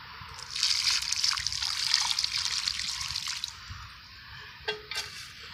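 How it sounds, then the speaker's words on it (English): Liquid fertilizer pours and trickles onto a potted Boswellia neglecta frankincense tree from Kenya, a steady close splashing stream lasting several seconds before stopping, followed by a couple of faint drips. "And we're going to give that some grow juice."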